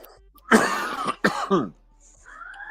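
A man coughs hard twice in quick succession, then clears his throat; a faint high tone follows.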